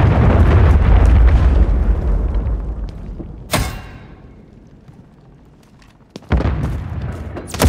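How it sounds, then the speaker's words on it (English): A cruise missile explodes in the video game Call of Duty Modern Warfare III with a loud, deep roaring blast that slowly fades, followed by a sharp crack, a quieter lull, and then another heavy rumbling impact. "Friendly cruise missile approaching target."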